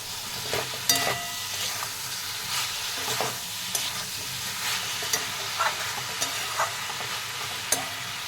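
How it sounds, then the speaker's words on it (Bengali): Chicken mixed with coriander, Kashmiri chili and cumin powders being stirred in a pan, a low continuous sizzle punctuated by sharp spoon scrapes and clinks at irregular intervals. "কাশ্মীরি লঙ্কা গুঁড়ো, জিরে গুঁড়ো, সবগুলোকে ভালো করে মিশিয়ে নেব"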